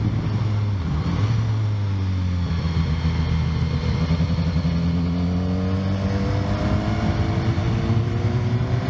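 A BMW S1000R sport motorcycle engine roars steadily at high revs, its pitch rising and falling as the bike rides past on a road in Spain, loud and close.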